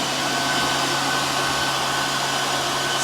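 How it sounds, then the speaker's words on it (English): A Kong Lil' Foot PCP high-pressure air compressor runs close by with a loud, steady, unbroken mechanical whir and hiss that stays level throughout. "Sweet little compressor, man."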